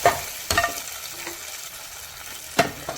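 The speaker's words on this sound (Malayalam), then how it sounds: "ഇനി നമുക്ക് നമ്മുടെ കപ്പയ്ക്കകത്തോട്ട് ഒഴിച്ചു കൊടുക്കാം" Hot tempering is poured over cooked tapioca, giving a soft hissing sizzle close by, with a few sharp clinks and stirring scrapes of a spoon against the pot and no talking.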